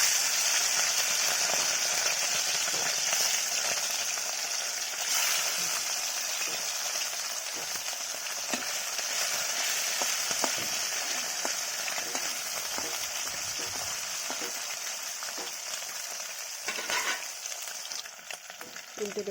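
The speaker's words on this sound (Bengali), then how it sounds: "পরিমাণ মতো তেল দিলাম কড়াতে তেল গরম হয়ে গেছে এবারে চুনো মাছগুলো" Small chuno fish frying in hot oil in a wok, a steady, dense close sizzle running throughout with occasional stirring clicks and scrapes.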